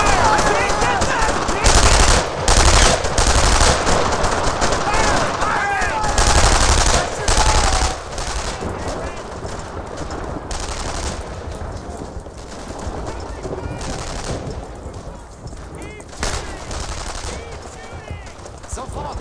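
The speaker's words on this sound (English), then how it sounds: "Keep shooting! Heavy fire!" Sustained machine gun fire in the World War II shooter game Brothers in Arms: Earned in Blood, loud and dense at first with repeated bursts, then continuing more steadily under shouted battlefield commands and voices.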